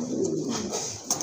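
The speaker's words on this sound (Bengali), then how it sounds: "এটাও ইম্পোর্টেড ডাবল এর কবুতর" An imported pigeon in a loft gives a short, close, soft cooing call, with a few faint chirps from other birds around it and no speech.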